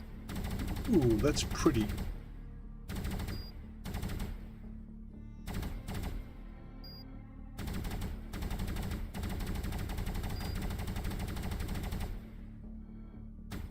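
A spaceship's primary weapon fires in rapid bursts in a video game demo, several spaced clusters of sharp repeated shots, with a person speaking briefly near the start.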